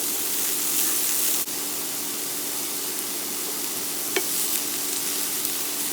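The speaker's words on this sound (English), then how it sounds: "So I'm going to let it kind of roast in the pan for a little bit" Broccoli, salted, roasting in an oil-free dry skillet, giving a steady soft hiss and crackle throughout, with a sharp clack near the start and a brief scrape later, close and moderately loud with no talking.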